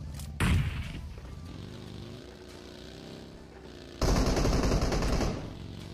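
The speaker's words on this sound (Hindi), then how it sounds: "और तभी भाई एक बंदा हम लोग पे फायर करता है" An enemy player fires on the squad in a mobile battle royale game: two loud bursts of rapid automatic gunfire, one short and one longer, ringing out over a steady engine-like hum.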